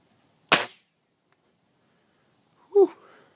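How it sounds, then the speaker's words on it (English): A single sharp air rifle crack in a back yard, fired at a bobblehead target. After about two seconds of quiet comes a brief breathy vocal exhale. "Alright, taking a shot on bobblehead."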